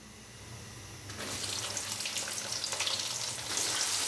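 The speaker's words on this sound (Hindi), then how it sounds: "प्याज को हम लाइट ब्राउन होने तक फ्राई कर लेंगे।" Finely chopped onions frying in ghee for a chicken and vegetable pulao, a broad, steady hiss of sizzling that surges when the onions hit the pan and keeps going close and fairly loud, with no talk.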